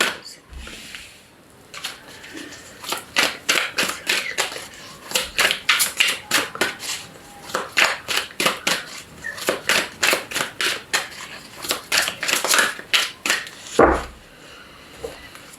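Tarot cards shuffled by hand, a rapid series of crisp riffling flicks and slaps in quick bursts across the whole stretch, close and fairly loud, with a brief low thump near the end and no speech.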